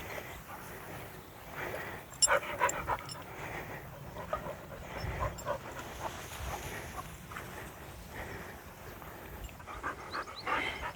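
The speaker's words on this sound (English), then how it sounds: "Dogs are enjoying running in this long grass." Dogs panting rapidly and steadily up close, mixed with rustling through long grass along a hedge line and occasional faint whimpers.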